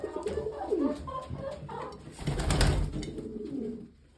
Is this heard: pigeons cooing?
yes